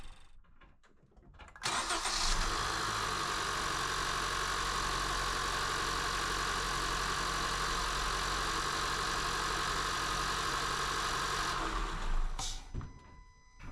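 A 2015 Honda Fit cold start, with a brief cranking and rattle as the engine catches, then a steady idle that runs loud and close for about ten seconds before cutting off.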